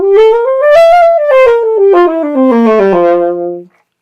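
A saxophone plays a fast scale run of distinct notes, steady continuous tone with accented beat starts, loud and close with no talk.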